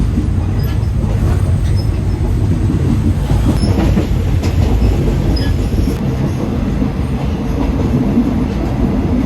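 A train in Thailand rumbles steadily along the rails with broadband low-frequency roar, occasional faint wheel squeals and clatter, loud and continuous throughout.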